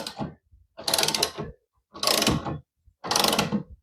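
A Vevor motorcycle lift jack is backed off onto its safety pin, making three loud, even bursts of ratcheting, clicking mechanism noise separated by short silences, close up and without speech.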